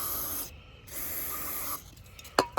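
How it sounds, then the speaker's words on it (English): Rubber-restoring lubricant, made in the USA, hisses from an aerosol spray can onto rubber in two short, fairly quiet bursts, followed by a faint tap. "Let's just spray a little."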